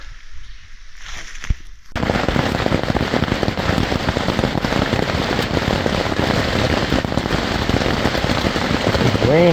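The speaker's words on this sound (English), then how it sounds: "It's raining hard now." Heavy rain pours down at a remote outdoor site after a storm arrives. A dense, loud, steady hiss and patter of drops starts suddenly after a quieter moment and continues unbroken.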